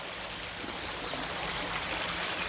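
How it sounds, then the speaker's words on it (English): The River Drone, a small stream by a wooden footbridge in Dronfield on the Derbyshire border, flows with a steady, even rush of water, close and continuous, with no voices. "So this is the stream, which is the River Drone, comes over that wooden footbridge."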